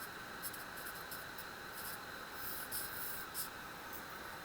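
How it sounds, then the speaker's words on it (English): Handwriting during a chemistry lecture: faint, short scratchy pen strokes come in quick bursts over a steady background hiss. "I'm just going to write the name."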